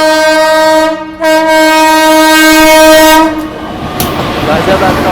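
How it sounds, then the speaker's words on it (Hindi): A stationary passenger train waits as another train overtakes it, with a loud, sustained horn held for about three seconds that breaks briefly midway, then a rushing, rumbling pass of wagons close by. "यहाँ पे कोई ट्रेन हमको ओवरटेक कर"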